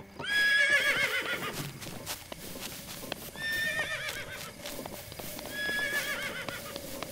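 Horse in the Zelda Breath of the Wild game whinnying loudly in three separate calls, with hooves clip-clopping steadily underneath throughout, no talking.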